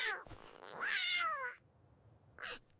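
A cartoon cat in a Kazakh children's animated fairy tale meows twice: a long, rising-and-falling meow, then a short, fainter one after a pause.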